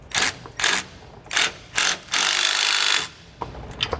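Ratchet wrench snugging the bolts on SumoSprings Rebel Custom helper springs on a 2015 Winnebago, with bursts of rapid clicking repeated several times, one long sustained run, close and fairly loud.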